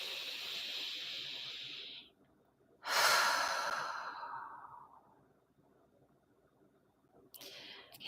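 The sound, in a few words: person taking a deep breath during EFT tapping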